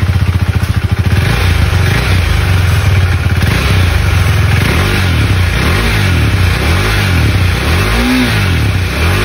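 Husqvarna Svartpilen 401 motorcycle with a 401cc single-cylinder engine revving up repeatedly from idle, loud and close, the pitch rising and falling in successive swells with no talking.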